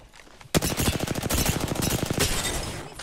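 Rapid automatic gunfire from a shooter video game rattles out in a dense, loud burst of evenly spaced shots lasting about two seconds, then trails off.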